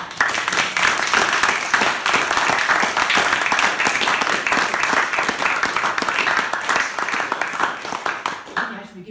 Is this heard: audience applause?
yes